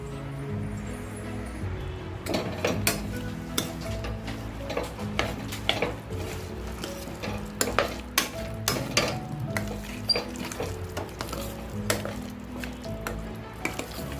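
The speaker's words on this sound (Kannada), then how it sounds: "ಇದನ್ನ ಸೌಟಲ್ಲೇ ಸ್ಮ್ಯಾಶ್ ಮಾಡ್ಕೊಳ್ಳೋಣ" A ladle mashes pressure-cooked lentils in a pot, making a run of close, irregular taps and soft knocks against the vessel over a faint background hiss.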